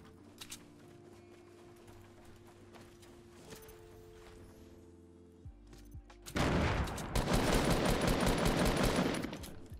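Rapid gunfire from a Fortnite: Battle Royale match, with scattered shots and footsteps at first, then a loud, dense burst of sustained automatic fire filling the last few seconds.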